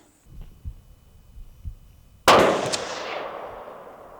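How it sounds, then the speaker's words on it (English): A single loud, sharp gunshot from a Ruger American rifle during bore sighting cracks out after a few soft thumps and handling noises, then rings and decays over the following seconds. "So that got us in 3 shots, almost bullseye, just for bore sighting."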